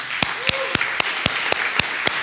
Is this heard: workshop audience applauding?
yes